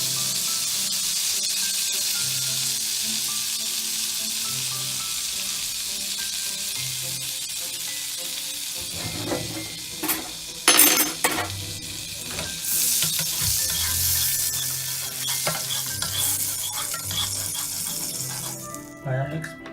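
Butter melting in a hot frying pan for scrambled eggs gives a steady broadband sizzle, with low music-like tones underneath and a few clinks and stirring rattles near the end.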